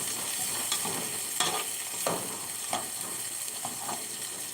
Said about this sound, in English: So you want to stir this and allow the onion get tender